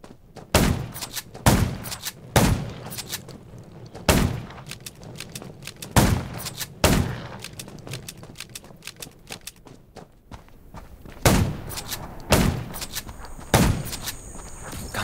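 Scattered loud gunshots ring out in irregular bursts in the zombie survival game Undawn, some paired in quick succession, with quieter footsteps and movement between them.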